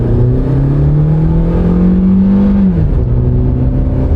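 A 1.8 litre car engine with dual variable valve timing accelerating, its loud steady drone rising slowly in pitch for a few seconds before dropping off, heard close and alone.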